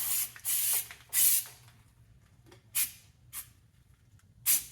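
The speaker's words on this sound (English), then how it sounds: "We're just gonna grab our rattle can and our light and get to shooting." Short bursts of aerosol spray from a rattle can applying thick undercoating to a 1958 Chevy Viking 60 dump truck, five or six separate hissing blasts of varying length with quiet gaps between.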